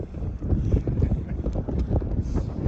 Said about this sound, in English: we are out in the wind farm, and obviously there's wind